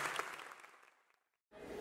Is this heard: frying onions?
no